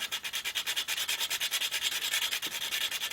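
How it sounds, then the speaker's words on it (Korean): Steady, rhythmic scratchy rubbing of fine 400-grit sandpaper on a wooden fishing float, quick back-and-forth strokes close up, with no voices. "조금 부드럽게 될 수 있게 여기만 이렇게 갈아주시면 돼요"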